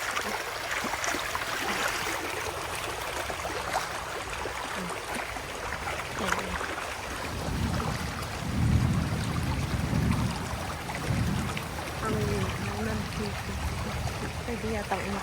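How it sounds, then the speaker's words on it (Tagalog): Strong current of the L'Allondon river rushes in a steady, close broadband wash, swelling slightly in the second half, with people talking over it. "ang lakas ng agos ng tubig"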